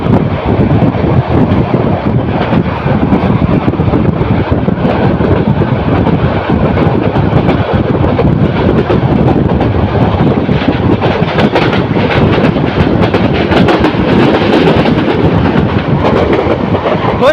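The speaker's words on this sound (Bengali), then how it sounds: "ঢাকা অভিমুখী নরসন্ধি কমিউটার ট্রেনটি দ্রুত গতিতে ক্রস করে যাচ্ছে" A Narsingdi commuter train bound for Dhaka rushes past at speed near Cantonment station, a loud, steady broadband roar with rattling rail noise sustained throughout, no voices.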